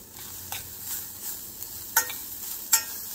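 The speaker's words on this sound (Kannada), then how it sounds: "ತೆಂಗಿನಕಾಯಿ ಹಾಕಿದ್ದೀನಿ, ಒಂಚೂರು ರೋಸ್ಟ್ ಮಾಡ್ತೀನಿ. ಇವಾಗ ಕ್ಯಾರೆಟ್ ಹಾಕ್ತೀನಿ." Grated coconut and carrot roast in a pan, giving a faint, soft sizzle with a few sharp scrapes and clinks of a stirring spoon against the metal.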